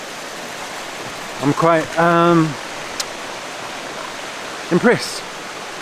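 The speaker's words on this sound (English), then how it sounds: "So as far as my first kind of Indonesian waterfall, actually Balinese Indonesian waterfall," Kanto Lampo waterfall in Ubud, Bali, roars as a steady, broad rush of falling water, loud and continuous, with someone talking briefly over it.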